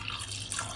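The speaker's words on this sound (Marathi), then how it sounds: "इथे टाकलं मी दूध भावेशला." Milk poured from a container into a glass, a short steady liquid stream with a faint splashing trickle, close and quiet, with no talking.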